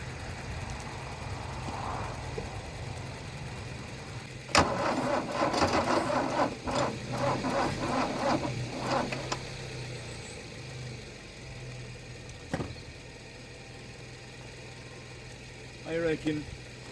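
A Mercedes W123 300D diesel, parked for twenty years, cranks in a burst of rapid mechanical churning that stops abruptly, with brief clicks and a short second crank-like rattle later over a steady background hum, and no talk.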